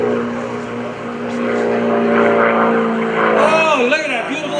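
Bob Gibbons' RV airplane engine drones steadily during an airshow solo display, its pitch wavering and climbing as the aircraft maneuvers, loud and fairly near, with a commentator's voice over it.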